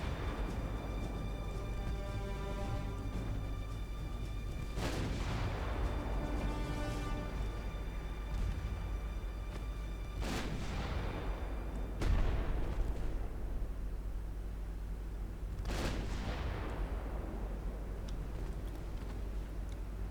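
Naval gun salvos in Ultimate Admiral Dreadnoughts, with a German 1910 fleet firing armor-piercing rounds: several heavy booming blasts a few seconds apart, each rolling off into a long decay over constant low engine rumble.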